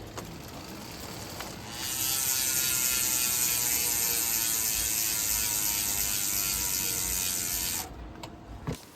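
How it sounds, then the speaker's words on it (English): Freehub of a 2025 Giant XTC Advanced SL mountain bike spun by hand, a fast, even ratchet buzz of tiny clicks holding steady for several seconds before stopping abruptly, close and alone. "I will do a little free hub sound check for you now"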